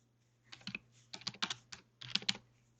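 Brief bursts of close, quiet keystrokes on a computer keyboard, three quick clusters of clicky taps separated by short pauses, with a faint low hum beneath.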